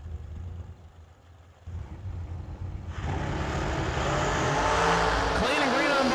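Supercharged drag racing cars at a New Year Nationals event launch down the strip, the roar swelling from a distant rumble into a loud, sustained blast, with an announcer talking over the first seconds.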